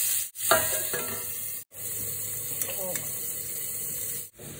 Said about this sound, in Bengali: এখানে এই যে কলমির শাকটা বসিয়ে দিয়েছি, আর এখানে উচ্ছেটাও ভাজা করে দিয়ে বসিয়ে দিয়েছি